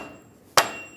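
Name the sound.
dead blow hammer tapping axle seal into place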